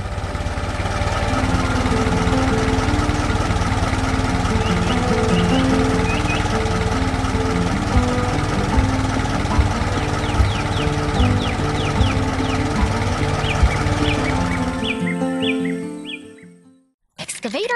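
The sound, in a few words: excavator working in a farm cartoon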